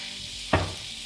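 Broccoli and pancetta browning in a pan, a steady close sizzle with one sharp utensil clink partway through, no voices.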